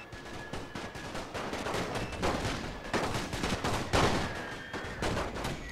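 Dense rifle fire crackles continuously in a World War I battle in The Great War, with many overlapping shots and volleys from infantry at mixed distances, loud and unbroken with no talking.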